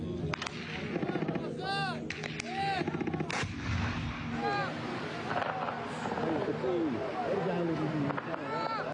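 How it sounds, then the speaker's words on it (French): Gunfire near an aid distribution site in Rafah: a burst of sharp shots and scattered cracks at mid distance, mixed with shouting voices and outdoor commotion. "des tirs fusent"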